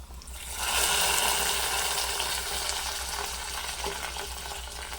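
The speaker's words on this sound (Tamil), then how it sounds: "தாளிச்சதை மோர் குழம்புல ஊற்றிக்கலாம்" Hot tempering poured into a buttermilk curry (mor kulambu) sets off a sudden loud, sustained sizzling hiss that starts abruptly and slowly settles, close up, with no talking.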